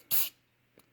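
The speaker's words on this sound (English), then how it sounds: "spray it with your Accelerator." A short spray of CA glue accelerator during woodworking glue work: one close, loud hiss lasting about a fifth of a second, followed by a faint second puff.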